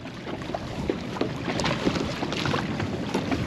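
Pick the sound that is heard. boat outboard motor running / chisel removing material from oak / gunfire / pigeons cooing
boat outboard motor running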